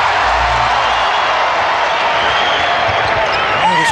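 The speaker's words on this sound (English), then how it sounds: "This crowd starting to get into it now at Air Canada Center" A basketball arena crowd at the Air Canada Centre in Toronto roars in a steady, loud wash of cheering and noise that holds for the full four seconds, dense and continuous without pause.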